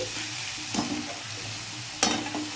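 Tomatoes sauté in a pan for dhaba-style chickpea and pea ghugni, a close, steady sizzle broken by two sharp scraping stirs of a spoon against the pan.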